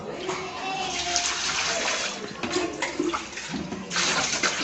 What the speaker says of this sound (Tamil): தண்ணியை தண்ணியை எடுத்து இந்த குண்டாக ஊற்றிக்கலாம்